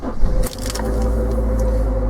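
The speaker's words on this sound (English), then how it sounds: "they're a fairly loud motor, giving it that it actually has non-hydraulic tappets" A 2000 Honda CR-V engine with non-hydraulic tappets runs loudly, heard from inside as a steady low drone, with a brief rattle or clunk near the start before the hum settles.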